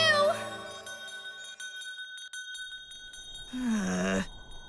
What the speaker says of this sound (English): You know true love is in the air when you hear the bells begin to ring.